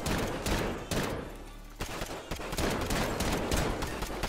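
Rapid gunfire from a .50 GS weapon in a video game headshots-only free-for-all match, sharp repeated shots with steady loud bursts throughout and no talking.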